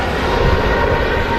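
An Aer Lingus airliner departs Manchester Airport for New York with a short burst of loud, close, dense engine roar that stays constant.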